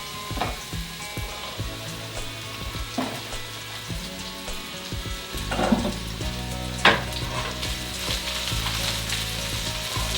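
A pound of cremini mushrooms and garlic cloves fry over medium heat in a pan, giving a steady close sizzle punctuated by occasional stirring scrapes and clacks, with no one speaking.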